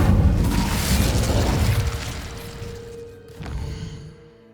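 An Incendio fire spell blast in Hogwarts Legacy on PS5, a loud booming fiery burst that rumbles and fades, followed by a softer second whoosh with a ringing tone.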